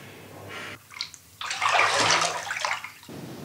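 Water sloshing in a bathtub full of water, close and fairly loud, with brief splashes followed by a sustained rush of moving water lasting a couple of seconds.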